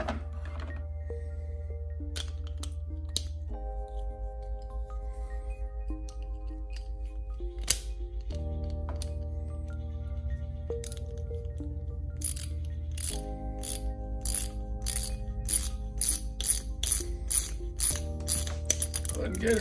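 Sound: tightening a fitting snug on a DIY hand gold dredge

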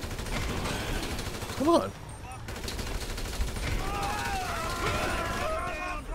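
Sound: gunfire in video game Grand Theft Auto V

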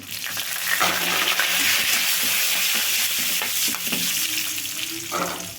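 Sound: tempering spices frying in oil

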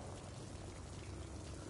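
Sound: rain in the video game Little Nightmares

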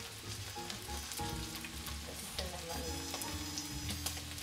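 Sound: beef browning in a pot with herbs and spices

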